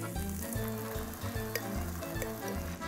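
Cooked borlotti beans sizzle loudly in a pan with their juice, a dense close fry with quick crackles and a few soft knocks as they are stirred, no voices over it.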